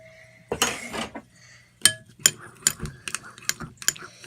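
Spoon stirring borax and water in a cup for homemade slime, a brief scraping swirl followed by a series of sharp close clinks and taps against the cup's sides.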